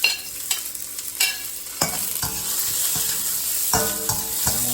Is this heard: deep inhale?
no